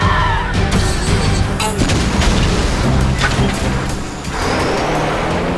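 A cartoon blue pulse gun fires an attack blast in an animated car battle, a loud booming burst with crashing, crackling energy over a dense rumbling background, with a voice calling out briefly.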